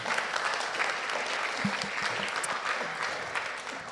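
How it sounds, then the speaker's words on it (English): An audience at a church service applauds two people after their testimonies, a sustained, moderately loud clapping from a room of people with some low scattered noise underneath. "Let's give them both one more applause."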